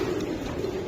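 Racing pigeons coo in a short low continuous murmur, close and fairly loud, with no talk.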